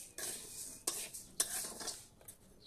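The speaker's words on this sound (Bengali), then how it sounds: "এখন ভাজতেছি, ভাজা লওয়ার পরে তারপরে আবার সিদ্ধ করবো।" Rice grains dry-frying in a pan for a simple village boiled-rice dish, stirred in a few scraping, rustling strokes close by, with no talking.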